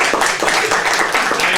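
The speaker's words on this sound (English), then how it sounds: "we're only clapping because I'm still alive" Dense applause from an audience at a tribute event, steady broadband clapping filling the short stretch with no voices breaking through.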